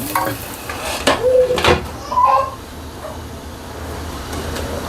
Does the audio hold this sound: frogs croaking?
no